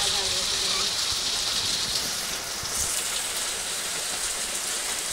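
Heavy rain in a storm pours down as a dense, steady hiss that drums on surfaces throughout, with voices talking underneath.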